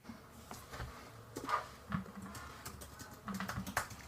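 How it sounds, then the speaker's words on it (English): Quiet, irregular taps and clicks of typing on a laptop keyboard, close by, in short bursts with pauses between them. "What are you typing?"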